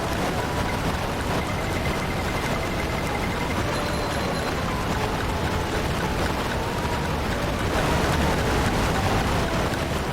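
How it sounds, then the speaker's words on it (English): A loud waterfall in the video game SpongeBob SquarePants: Battle for Bikini Bottom roars as a dense, constant rushing wash that fills the whole stretch, with faint game tones above it. "That waterfall's really loud."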